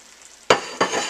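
An egg, cooked in its shell, hits a hot pan and sizzles, giving two sharp crackling bursts a moment apart that settle into steady frying hiss, close and alone.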